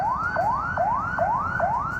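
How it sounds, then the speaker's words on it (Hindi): An ambulance siren stuck in a Karachi traffic jam wails in a fast repeating rising sweep, about five cycles, loud and steady over a low rumble of traffic. "कराची के ट्रैफिक जाम में फंसी एम्बुलेंस 2 घंटे तक रास्ते की तलाश में रही।"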